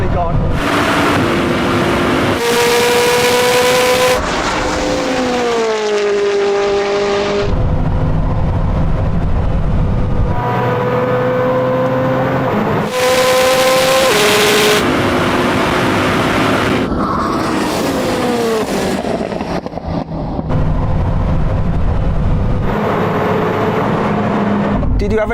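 A Bugatti Chiron and a Koenigsegg Jesko accelerating hard in a race, engines sweeping upward through repeated gear changes, each shift marked by a sudden drop in pitch, all heard close and loud under heavy wind buffeting.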